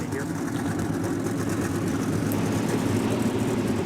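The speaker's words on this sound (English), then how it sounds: "the 12 cars fire their engines up for the second Propel IROC Series race of the season" Twelve race car engines in NASCAR Racing 2003 firing up and idling before an IROC Series race at Michigan, a dense continuous engine drone with a commentator talking over it.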